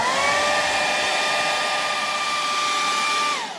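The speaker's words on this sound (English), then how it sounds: "And so now I'm going to dry." A hair dryer blows steadily and loudly up close over a watercolor painting, then cuts off and winds down near the end.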